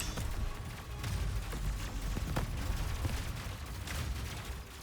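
Gunfire effects from the arcade shooter Cygni: All Guns Blazing crackle as a dense, continuous stream of rapid shots and soft booms, fairly quiet and steady throughout, with no one speaking.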